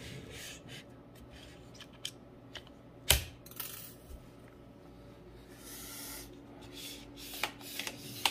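An SL stock on a Noveske N4 rifle pressed and pulled to adjust, giving faint scattered clicks and rubs with one sharp louder snap partway through, close and quiet with no talking.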